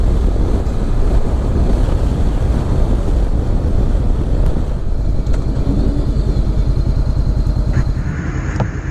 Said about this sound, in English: Well, it bloody is windy.